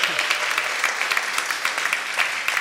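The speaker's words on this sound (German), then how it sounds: "ein bisschen Applaus für deine Stimme vielleicht" A live audience at a singer-songwriter night gives steady applause, many hands clapping evenly at moderate distance with a few sharper claps standing out.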